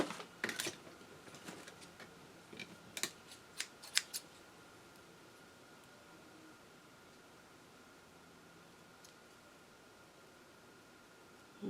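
Several sharp scissor snips trim excess green material from a perfume bottle, clustered in the first few seconds, followed by a long quiet stretch of faint room noise.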